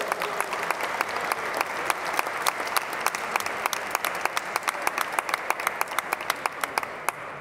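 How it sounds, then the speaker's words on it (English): Audience at a town hall meeting for a city mayor's North Coast Connector project applauds steadily, many hands clapping close together with sharp individual claps standing out, alone and without talk. "Round of applause, woohoo!"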